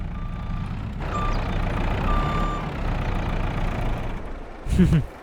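Reversing beeps from a vehicle in the farming video game Farming Simulator 22 repeat over a steady engine rumble, with a voice talking over them and a louder burst near the end.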